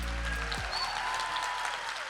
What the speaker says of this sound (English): Applaud the poet.